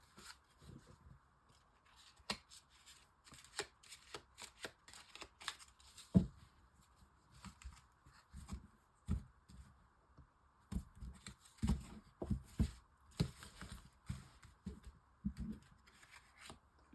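A deck of oracle cards is shuffled by hand, giving soft, quiet rustles and papery slaps that come in irregular bursts with short pauses between.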